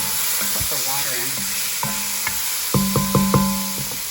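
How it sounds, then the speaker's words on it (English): Steady loud sizzling of duck neck browning in a hot pot, with occasional scrapes and clinks of a utensil stirring. "Get a little bit of browning on that neck before I go and put the water in."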